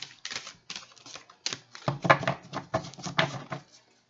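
A new deck of Halloween oracle cards gets shuffled by hand, giving close, crisp bursts of riffling and clacking in uneven spurts as the stiff cards stick together.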